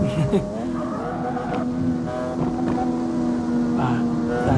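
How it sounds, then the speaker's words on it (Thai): Nissan 370Z with a naturally aspirated V6, heard in the CarX Street racing game, drones steadily at a mid-pitched hum throughout, with slight rises and falls in pitch, loud and continuous. "ไปเสียงโอเคนะสำหรับเจ้าสามเจ็ดศูนย์เซนนะครับ เป็นเครื่อง V6 นะ"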